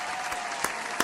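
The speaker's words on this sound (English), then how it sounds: "I do want to clap it up for my man" Applause sound effect played during a sports video game livestream, a short burst of crowd clapping with a few sharper individual claps, fairly loud and heard without talk.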